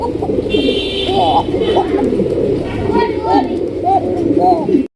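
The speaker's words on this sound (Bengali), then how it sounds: "আঠারোশো টাকা আপনারা নিতে পারবেন অ্যারাবিয়ান ককা কবুতর" Arabian pigeons cooing loudly and close, repeated throaty rolling coos in quick bursts, with a thin high background tone briefly present.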